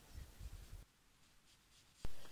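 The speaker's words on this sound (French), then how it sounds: "Tu viens ensuite dessiner des traits." A pen scratches short lines onto paper for a dreamcatcher drawing, several quick close strokes in a row, then a pause and a single sharp tap.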